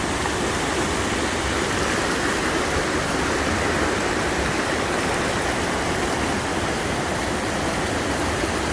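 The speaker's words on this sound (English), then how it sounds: "Second stop on Old Falls River Road is a little pullout with a waterfall." Steady roar of a waterfall beside Old Falls River Road in Rocky Mountain National Park, loud and close, a dense continuous rush of falling water with no voices over it.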